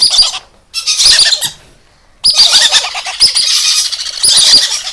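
Shrill, harsh squawking from blue monk parakeet chicks, loud and close, in rapid overlapping bursts with a brief quieter gap partway through.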